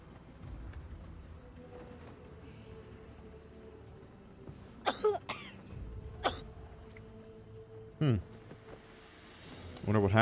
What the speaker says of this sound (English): Coughing means something.